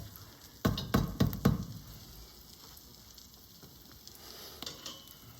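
Croutons fry in a hot pan over intense heat for a steak dish, with a few loud bursts of sizzling and clattering stirs early on, then a steady low crackle and some fainter scrapes.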